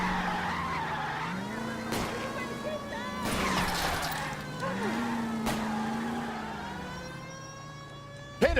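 Car tires skid and squeal through a police car chase in L.A. Noire, with a wailing siren and a roaring engine running throughout, loud and close, as voices shout over the action.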